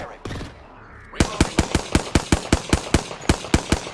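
Rapid bursts of video game gunfire, a couple of shots and then a long, evenly spaced string of loud, sharp reports at a steady rhythm, with a faint background hum between them.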